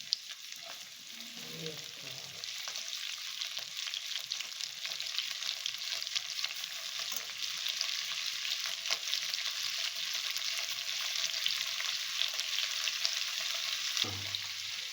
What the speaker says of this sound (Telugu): వేసినాక మంచిగా ఇది ఆయిల్లో వేపాలి ఇంకా బ్రౌన్ కలర్ పచ్చగా అంటే నూనెలో ఫ్రై కావాలి